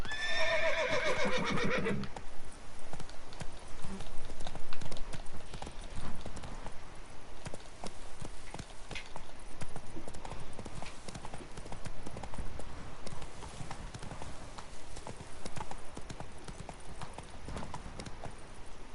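In The Witcher 3 video game, the horse Roach whinnies and then gallops, with rapid hoof clip-clops running continuously at moderate loudness.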